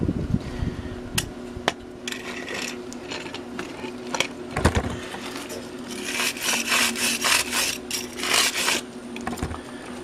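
Close, rasping brush scrubs and scrapes against a metal trap, irregular at first, then quicker repeated strokes, with occasional knocks.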